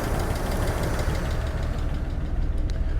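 A 1989 Bentley Turbo R, recently revived after being stripped and abandoned, idles steadily with a dense, throbbing low rumble and a faint ticking knock, heard close and loud throughout without talking.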